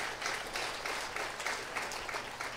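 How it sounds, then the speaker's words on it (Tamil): An audience claps during a Tamil public comedy speech, a dense patter of many hands at moderate distance, steady and slightly uneven for a few seconds. "நல்லா கைத்தட்டுங்க"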